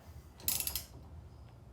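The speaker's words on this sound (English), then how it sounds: "I'm gonna go ahead and pop it on my ratchet. And I am going to go ahead and tighten down our new wheel cylinder." A ratchet with a 19 mm socket tightening a new wheel cylinder on a Datsun's brakes gives a quick, close burst of metallic clicking that lasts about half a second, then goes quiet.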